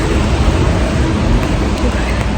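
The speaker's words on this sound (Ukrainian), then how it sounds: "У нас дощ почався" Rain falls in a steady, dense hiss, close and continuous throughout.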